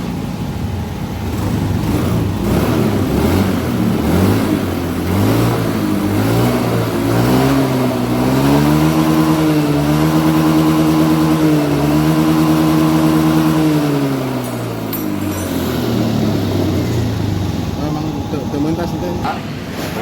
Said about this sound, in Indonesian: Ini motor dalam keadaan mesin hidup